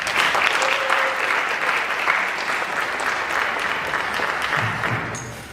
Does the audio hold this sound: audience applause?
yes